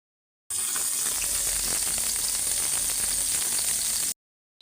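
Ash gourd vegetable curry hits hot oil in a pan and sizzles loudly and steadily, a dense crackling fry that starts abruptly and holds constant before cutting off, with no talking.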